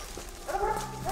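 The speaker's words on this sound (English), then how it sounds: "As the dogs grew louder" Hunting dogs bay and bark in the Vermont mountain woods during a black bear hunt, a few short, fairly faint calls carrying from a distance.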